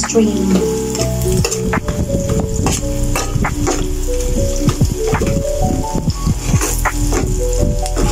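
Garlic cubes frying and being stirred in a pan for an Arabic-style shrimp dish, a loud steady sizzle broken by repeated clacking scrapes of a utensil against the pan.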